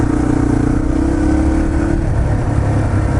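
A carbureted Yamaha TT-R230 dirt bike engine runs loud and steady while riding at Windrock Park, its mid-pitched drone rising slightly in revs, very close with no talk over it.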